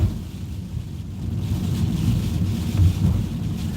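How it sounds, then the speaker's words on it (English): Heavy pouring rain outdoors, a steady low roar with wind buffeting the microphone, continuous and loud with no talk. "Absolutely pouring rain"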